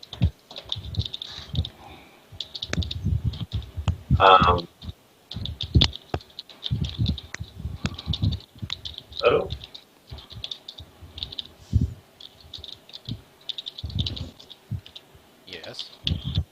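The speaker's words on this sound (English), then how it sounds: "somebody's typing is very loud" Loud computer keyboard typing picked up by a microphone during an online tabletop game session, rapid irregular key clicks with heavier thumps, while voices talk intermittently over it.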